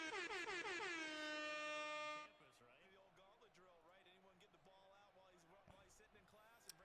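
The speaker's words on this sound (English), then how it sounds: "There you go, an air horn." A loud air horn sound effect blares steadily for about two seconds and then cuts off abruptly, leaving faint background chatter from a live football game broadcast.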